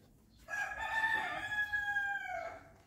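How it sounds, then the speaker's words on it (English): A rooster crows once in a long, clear, drawn-out call at a riad in Marrakesh, Morocco, in the early morning, heard from a moderate distance against a quiet background. "These are the roosters that woke Nick up at 6 a.m."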